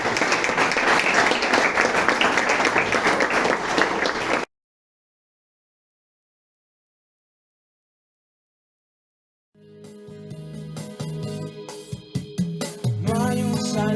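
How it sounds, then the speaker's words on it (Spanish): Loud, sustained applause from a church congregation fills the opening seconds, then cuts to silence before mixed clapping and music-like sounds return near the end. "Un aplauso fuerte para nuestro Dios y Padre"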